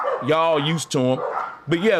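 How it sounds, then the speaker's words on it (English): Dogs bark in loud, repeated yips and woofs close by, three bursts in two seconds, while someone talks over them. "Excuse the dogs."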